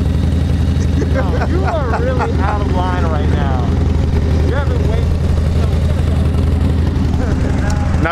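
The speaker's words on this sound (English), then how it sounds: "this bike sounds amazing though" A Harley-Davidson motorcycle engine idles steadily at close range, a constant low rumble under several people talking and laughing.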